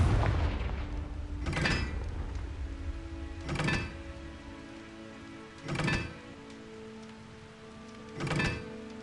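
Confringo fire spell in Hogwarts Legacy, four sharp fiery bursts spaced about two seconds apart, each a crackling blast over a low ambient hum.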